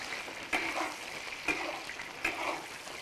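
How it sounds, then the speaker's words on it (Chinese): Pork tails stir-fry in hot oil in a wok, a soft steady sizzle broken by three sharp scraping stirs spaced about a second apart, fairly quiet and close. "锅头来点油，把尾巴倒进来先炒一下。"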